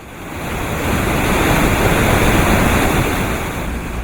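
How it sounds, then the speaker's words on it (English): Steady roaring rush of a waterfall beneath a glacier in Norway, broad and hissing like heavy spray, swelling slightly then easing, with no voices. "we are at a glacier and there's a waterfall underneath it"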